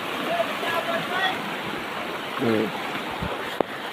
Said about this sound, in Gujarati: જો કેટલું બધું પાણી જાય છે